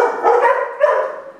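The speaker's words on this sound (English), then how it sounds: "the dogs are barking really loud" Two dogs bark loudly and close by in a quick overlapping burst of sharp, high barks.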